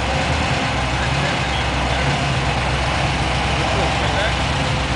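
A silver S7 TT sits in neutral with its engine running, a loud, steady, close drone of low rumble and broadband roar that holds evenly for the whole stretch.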